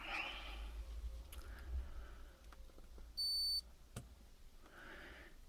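A single short, high electronic beep from a multimeter diode test on Schottky diodes in a Mercury 20A power supply sounds amid quiet background hum and faint handling noises.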